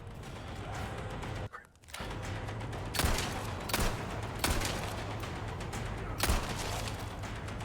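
Gunfire in Resident Evil 4, several sharp shots over a dense game soundtrack, spaced irregularly across a few seconds.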